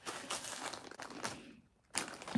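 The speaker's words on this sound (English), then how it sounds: "The rustling you hear is me grabbing my beads." Small beads rustle and clatter softly as a hand grabs them from containers on a craft desk, several brief close crinkling bursts with a short pause before a final scrape.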